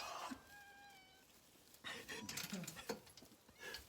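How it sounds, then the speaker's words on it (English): Cat on a New York farm giving a few faint meows, some with tonal harmonic lines, amid soft rustling and background noise. "Cat's not very friendly."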